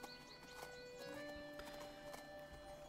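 Horse hooves in the video game Gaucho and the Grassland clop softly under a steady bed of game music and ambience, a faint whinny mixed in, with no talking.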